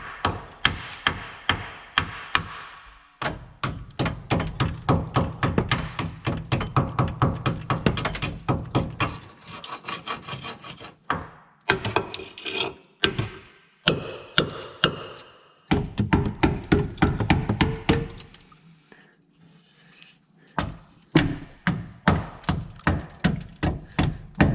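Rapid metallic hammer blows strike a car's rear wheel arch over and over in quick bursts, loud and close, with short pauses between the runs of hits.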